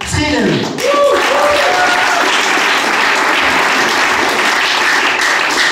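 Applause from a concert audience at the Swizzeridoo 2017 festival, a broad continuous clapping roar filling the clip, with a brief tonal voice or whistle sweep at the start before the crowd settles into sustained applause.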